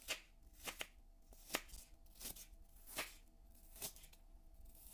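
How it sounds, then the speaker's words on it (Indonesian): A knife slicing an onion lengthwise on a cutting board, several crisp separate cuts at an uneven, unhurried pace, close and fairly quiet. "Ada 1 buah bawang bombay, ini diiris memanjang seperti ini."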